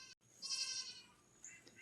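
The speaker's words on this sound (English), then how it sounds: "All the goats are super curious as to what's going on." Goats bleating on a small farm, a clear wavering bleat held for about a second followed by a shorter fainter call, fairly close with no talk.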